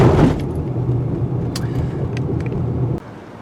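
2019 Acura RDX AWD rolling over a speed bump: a heavy rumbling thud of tire and suspension noise under road hum, with a few light rattles before the noise drops off.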